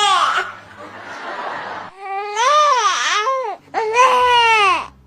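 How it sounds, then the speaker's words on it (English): A newborn baby gives a hungry 'neh'-type cry in several loud, close, wavering wails with brief pauses between them, alone with no speech. "And this is the word for hunger."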